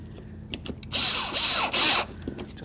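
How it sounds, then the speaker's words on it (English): A power tool drives in the fog light mounting bolts on a 2007-12 Dodge Caliber, with two loud whirring bursts, the second brief and strong, after a few faint clicks and handling noises. "Let's grab our 2 mounting bolts and put them in."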